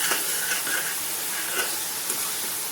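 Tomato puree fries in a pan while cooking banana kofta curry, giving a steady, close hiss and sizzle with faint crackles that carries on without pause.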